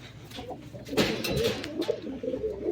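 A newly paired couple of pigeons coo in low, throaty rolls close by, with some shuffling and rustling noise mixed in.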